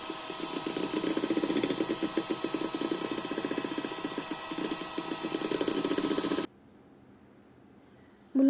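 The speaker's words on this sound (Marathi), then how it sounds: "छान असं बीटरने व्हिपिंग क्रीम" Electric beater whipping cream for a cake in a home kitchen, a steady loud mechanical whir with rattling for about six seconds, then cutting off to near silence before briefly starting again.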